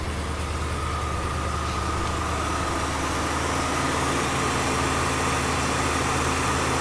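1973 Ford LTD Brougham coupe with a smog-era 460 big-block V8 and retarded cam gear, idling fast on fast idle with a steady, loud, throaty rumble and no talking.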